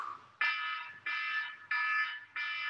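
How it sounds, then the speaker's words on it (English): A loud fire alarm sounds in repeated long electronic blasts separated by short gaps during a live fitness stretching class, steady and piercing. "Don't let that alarm bother you."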